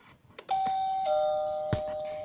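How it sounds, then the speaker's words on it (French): A Playmobil toy house doorbell rings with two bright electronic dings that hold and slowly fade, following a few small clicks, while a person speaks briefly over it. "des marches avec la sonnette"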